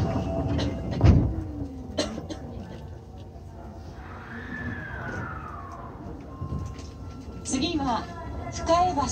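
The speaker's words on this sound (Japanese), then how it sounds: "まもなく扉が閉まります。" Osaka Metro Chuo Line Series 24 train doors sliding shut at a station, a soft mechanical movement with brief thumps, heard under recorded announcements and a rising electronic tone.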